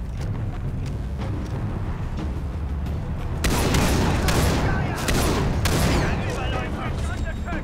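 Gunfire in the Far Cry 3 video game, a burst of loud shots and booming impacts cutting in partway through, over a busy game soundscape.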